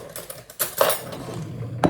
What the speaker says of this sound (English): I'm just going to get a spoon to get the rest of that off.